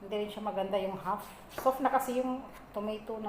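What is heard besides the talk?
No distinct noise like a dog, phone or traffic.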